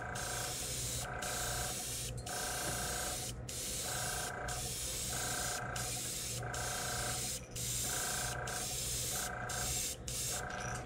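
An airbrush sprays a thin base coat of yellow paint onto a bullfrog topwater popper lure: a steady, close hiss broken into regular bursts about once a second, with brief gaps between passes.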